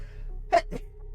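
A single sharp sneeze, a quick burst followed by a softer second puff, heard up close over a low steady background hum.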